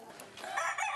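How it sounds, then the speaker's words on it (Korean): A rooster crows among chickens kept as a grandfather's hobby in Korea: a short, fairly loud, strained call that rises and holds, with no talk over it. "할아버지의 취미는 닭 키우기."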